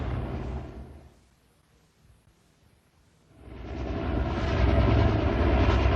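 Loud helicopter engine and rotor drone that drops away briefly, then swells back to a steady, heavy roar.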